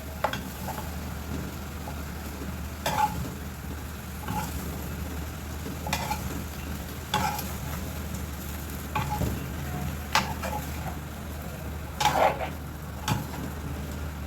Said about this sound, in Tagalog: kailangan natin ng 2 sandok para maihalo natin siya